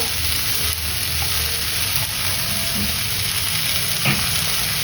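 Capsicum, tomato and green chilli fry in a pan while being stirred, giving a steady close sizzle with faint scraping of the spoon throughout.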